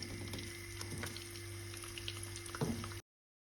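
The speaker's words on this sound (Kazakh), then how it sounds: "Екі жағын қызартып, бауырсақ сияқты әдемі қылып қуырып аламыз." Small sprat (kilka) fish fry in hot oil in a pan, giving a steady, soft sizzle with faint crackles and one brief louder pop near the end, with no voices.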